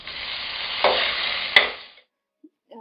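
Tomatoes go into a pan of sizzling vegetables such as carrot and capsicum, giving a loud, close hiss with a couple of sharp bursts that cuts off after about two seconds, with no talking.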